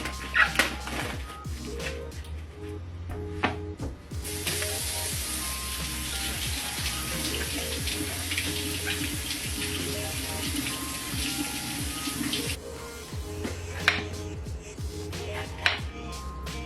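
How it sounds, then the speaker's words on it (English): A running kitchen tap pours steadily for about eight seconds as vegetables are rinsed under it, with clattering kitchen handling sounds before and after the water flow. "you wanna rinse off your veggies as well"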